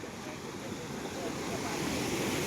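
Canal water brought from Nepal pours steadily into a village pond, a continuous rushing wash with a slight breezy hiss that swells a little louder toward the end.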